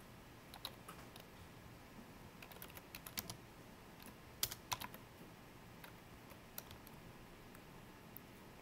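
Typing on a computer keyboard: faint, irregular clicks in quick bursts, with a few louder keystrokes in the middle, and no talking.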